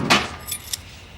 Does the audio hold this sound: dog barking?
no